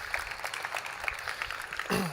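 Applause from a conference audience at a programming-language event's main stage, a steady dense wash of clapping lasting a couple of seconds before fading.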